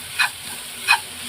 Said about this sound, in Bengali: এবার সয়াবিন কিমাটা এর মধ্যে দিয়ে ভালো করে মিক্স করে নেব।